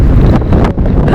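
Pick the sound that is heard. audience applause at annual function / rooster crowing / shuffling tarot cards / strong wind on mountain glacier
strong wind on mountain glacier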